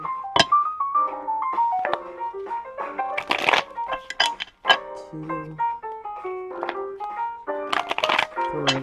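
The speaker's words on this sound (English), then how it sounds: "Let me just shuffle a few times." A deck of tarot cards is shuffled over and over, giving crisp riffling snaps and flutters in quick bursts close to the microphone. A voice briefly counts aloud over part of it.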